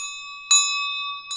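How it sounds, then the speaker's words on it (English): Stock market opening bell rings with a clear, sustained metallic tone, struck twice in quick succession, loud and close. "Oh, we have opening bell."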